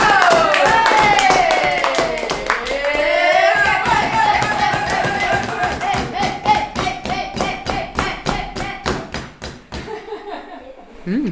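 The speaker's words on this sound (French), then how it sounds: "Et d'abord on applaudit." A small group of people at a family birthday celebration clap their hands in a quick, uneven burst, with voices and laughter over it at first, then claps continue clearer and spaced as the talk dies down.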